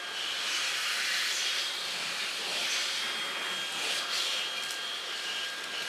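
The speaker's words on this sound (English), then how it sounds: "I'm gonna pull this in, we'll suck up that hairball." A cordless stick vacuum with a crevice tool draws up debris and a hairball, giving a steady, airy suction hiss that holds at a constant moderate level throughout.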